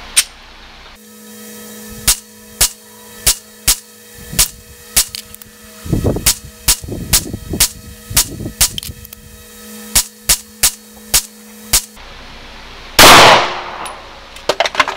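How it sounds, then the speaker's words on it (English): A Mossberg MC1sc pistol fires Federal HST rounds at a range, with sharp, loud shots spaced unevenly at about one per half second, a few quick pairs, and a brief rustle near the end. "Right, 18 rounds, Federal HST. Let's see how these work out."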